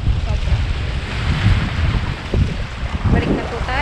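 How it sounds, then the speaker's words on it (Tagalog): Strong wind buffets the microphone in a steady roar at the beach at Santa Marinella near Rome, Italy, with surf and water noise rushing underneath throughout. "Ayan po, mahangin. Sobra."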